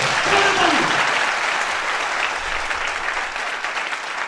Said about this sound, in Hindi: तो आई थिंक इस संस्था के लिए एक जोरदार ताली चाहिए।